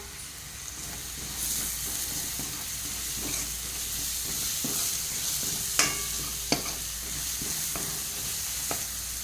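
Soybean paratha filling fries in oil with a continuous hissing sizzle, joined by occasional stirring scrapes and a couple of sharp taps against the pan.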